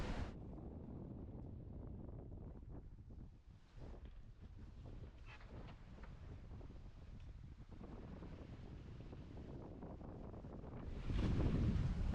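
Wind gusts at sea during a solo sail buffet the microphone in a steady rough roar, with water washing around the boat and a louder blast near the end.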